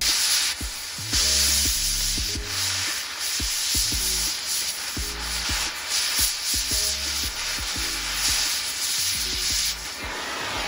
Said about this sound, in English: This is a better example of scarfing than I've shared in the past.